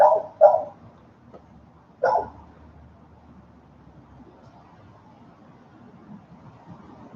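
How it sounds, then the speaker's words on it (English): A neighbor's dog barks outdoors: two quick barks, then a third after a pause, moderately loud and nearby, with quiet ambience afterward. "Oh, she sees the neighbor's dog now."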